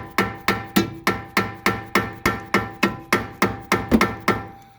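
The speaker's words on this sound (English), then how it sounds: "we're going to screw them on just a little bit so we can sort of try tapping, hammering to get that bolt out" Regular hammer blows knock at a stuck bolt in the suspension of a 2003-2008 Subaru Forester during a 2-inch lift install, about ten loud metallic strikes in a steady rhythm, close by with no talk.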